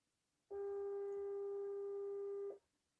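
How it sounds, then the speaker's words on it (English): A single steady electronic telephone tone sounds for about two seconds against near silence while a call is placed, then stops. "I'm ringing him now."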